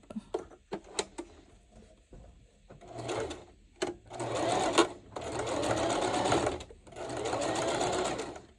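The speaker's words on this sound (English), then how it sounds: "And I'm going to go ahead and sew this down." A sewing machine stitches a zipper bag made from dollar-store fabric prints in several separate bursts of close, steady whirring, with short pauses and small clicks and handling sounds between runs.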